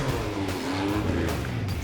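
An IndyCar engine roars as the car accelerates hard off the start line beside an Olympic sprinter in a 30-foot race, a loud continuous rising snarl with tire noise close up.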